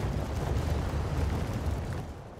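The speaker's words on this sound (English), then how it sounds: "That plus cannon shot bouncing through." Massed cannon fire in a Napoleonic-era battle strategy game, a continuous deep, rumbling roar of overlapping booms that stays heavy and steady throughout, with no talking.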